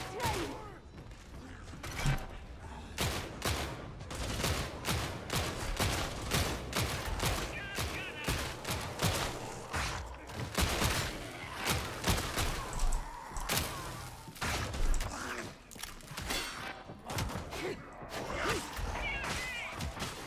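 Gunfire in the video game Warhammer 40,000: Darktide, dense rapid bursts of shots and mechanical clatter running continuously with brief pauses, loud and close throughout.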